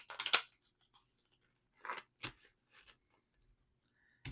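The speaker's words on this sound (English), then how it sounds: "I'll shuffle while you do that right now." Tarot cards being shuffled by hand, heard as scattered short papery riffles and taps separated by quiet gaps, close and moderately soft, no talking.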